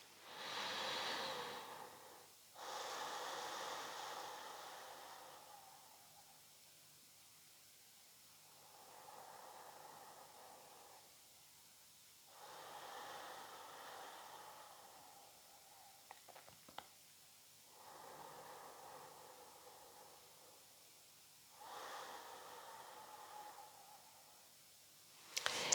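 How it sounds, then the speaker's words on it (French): Slow, deep breaths during a level-two Pilates foam roller session, with about seven long inhale-exhale cycles, soft and airy and spaced several seconds apart, close and quiet with no talking. "Et retrouver une respiration plus complète. Le ventre qui se gonfle,"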